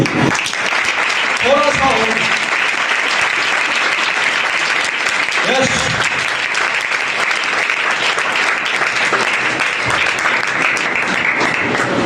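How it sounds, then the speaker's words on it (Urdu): Sustained, loud clapping from a church congregation on Ascension Day, praising Jesus, steady and dense throughout, with a voice speaking briefly over the applause. "ذرا زوردار تالیاں یسوع کے لیے"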